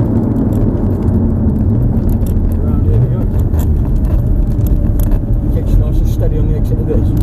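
A Lamborghini engine drones steadily as the car pulls and accelerates on a track, held close and constant throughout, with someone talking over it almost the whole time.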